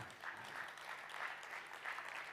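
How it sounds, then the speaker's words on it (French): Applause from a conference audience welcoming a speaker, steady clapping at moderate distance, fairly faint and continuous throughout. "On applaudit Manon."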